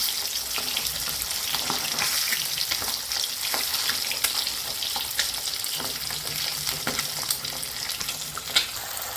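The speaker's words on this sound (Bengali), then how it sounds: "ডিমগুলো আমার ভেজে তুলে নেওয়া হয়ে গেছে" Eggs fry in hot oil in a pan for a Bengali egg-mustard dish, a dense, close, continuous sizzle and crackle with scattered stirring scrapes throughout.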